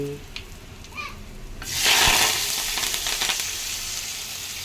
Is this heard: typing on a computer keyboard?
no